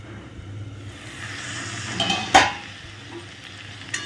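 Beans with potato, tomato, onion and garlic sizzle steadily in a pan, softly at first, with a brief scrape of stirring and a clink of utensil against the pan midway.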